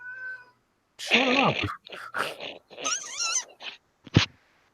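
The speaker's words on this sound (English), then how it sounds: "Cat's going nuts." A cat meows and yowls loudly in several agitated, wavering bursts, close by, with a brief spoken remark in between.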